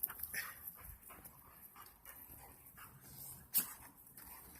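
Several puppies yip, whimper and give small barks during playful roughhousing, faint and scattered short sounds with one sharper yelp near the end, over quiet background noise.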